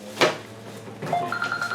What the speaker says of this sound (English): Stupid phone call.